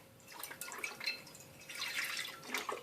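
Beef broth pours from a cup into a slow cooker for low-carb chili, a faint trickling, splashing stream that swells and eases in two waves.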